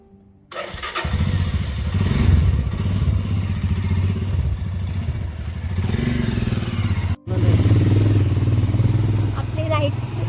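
A motorcycle engine starts and runs loud and close at night, pulling away on a solo ride from Murud toward Raigad Fort in Maharashtra, with a brief dip before it steadies again; a voice speaks faintly over the engine.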